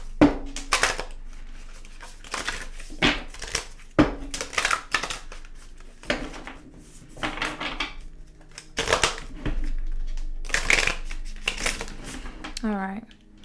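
A deck of oracle cards shuffled by hand, repeated crisp riffling bursts and soft slaps at close range, the sounds clustered in quick rounds with pauses between.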